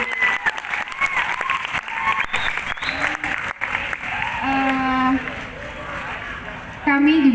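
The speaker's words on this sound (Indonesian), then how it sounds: "Tepuk tangan dulu dong buat semuanya." Ninth-grade students at a Jakarta junior high school farewell gathering applauding, a roomful of clapping and crowd noise with voices talking and calling out over it throughout.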